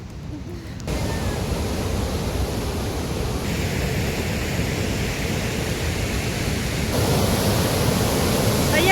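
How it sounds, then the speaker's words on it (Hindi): Floodwater in a village after heavy rain rushes steadily near a bridge, a loud continuous broadband roar that swells slightly toward the end. "देखो कितना ज्यादा पानी आया"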